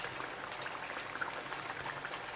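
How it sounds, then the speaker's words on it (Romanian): Crispy chicken strips frying in hot oil, a soft continuous crackle and fizz of small bubbles, fairly quiet and even, with no speech over it. "Care vedeți că nu mai fac așa multe bule, înseamnă că nu mai prea au umiditate în ele."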